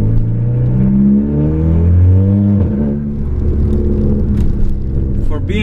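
A BMW 3 Series with catalyst, resonator and muffler deleted and a twin intake revs loudly up close, its engine note rising and falling in smooth sweeps with a deep rumbling drone underneath.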